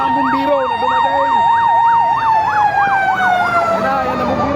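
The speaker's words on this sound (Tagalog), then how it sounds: "Ayan na bumbero, ayan na." A fire truck siren wails in a fast, rising-and-falling yelp as the engine arrives at a bus fire in Imus, loud and close throughout, with faint voices underneath.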